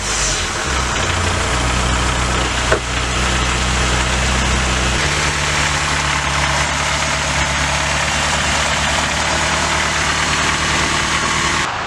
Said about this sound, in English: The B16, the B18, the B20, they're all pretty noisy engines.